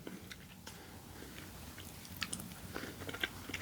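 Someone chews Wingstop Voodoo fries topped with ranch, with quiet close-up bites and soft crunches growing a little louder toward the end, and no talking.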